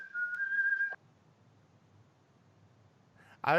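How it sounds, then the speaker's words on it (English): Someone whistles a single sustained, steady note that rings with a reverberant echo, then cuts off into near-silence before a brief louder noise at the end. "Someone's whistling with a beautiful echo."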